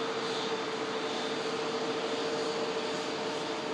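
An Airbus A350 taxis past a runway visitor park, giving a steady, even jet roar with a faint whine running through it. The sound holds constant for the whole stretch, with no voices.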